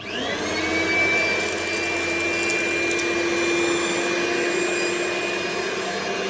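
Hoover Brushvac handheld vacuum cleaner sucking up gritty dirt from a car mat, a loud steady whine with a high motor tone held throughout, brief crackles of grit rattling up the nozzle near the start, no talking.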